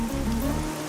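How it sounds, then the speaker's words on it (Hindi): Steady rain falls as a dense, continuous hiss, close and fairly loud for a brief moment. "और ये बारिश है कि रुकती ही नहीं है"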